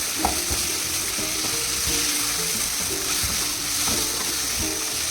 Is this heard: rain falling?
no